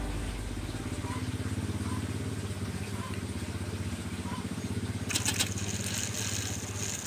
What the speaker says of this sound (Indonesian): kita coba dulu menyalakan mesin dan apakah kipas bisa berputar